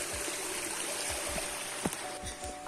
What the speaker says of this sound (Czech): Přejdeme potok